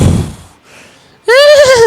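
A person imitates a horse neighing, a brief breathy rustle and then one loud, quavering whinny up close that falls in pitch at the end.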